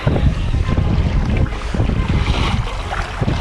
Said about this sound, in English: Some strong waves. We're getting tossed a bit.